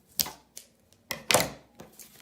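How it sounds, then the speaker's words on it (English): Scissors snipping through string in a yucca lanyard and grass weaving craft, a series of sharp, close snips and clicks with one louder double cut in the middle. "I'm just going to use some scissors to cut my string on both ends."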